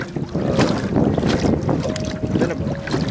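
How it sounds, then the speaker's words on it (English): Gusty wind buffets the microphone while a portable boat is rowed across a choppy lake, with water lapping against the hull, a steady, close rush of noise without talking. "It's kind of windy up here."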